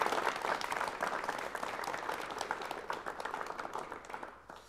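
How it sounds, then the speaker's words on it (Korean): A television studio audience applauds to welcome a guest on a 1988 Korean talk show, with a busy rush of clapping that fades gradually at the close. "여러분 박수로 맞이해 주시면 대단히 고맙겠습니다."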